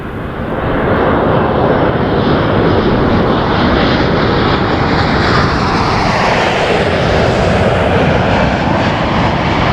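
An Air Canada airliner passes low overhead at Toronto Pearson airport, a loud, broad engine roar that builds quickly and holds steady with a shifting rush as it flies over, with no talking.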